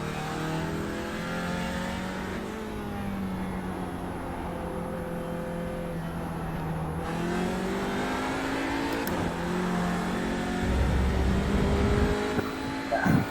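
A JSCC junior saloon race car drives past on a circuit, its engine revving loud and steady, pitch rising and falling through gear changes as it passes and accelerates away.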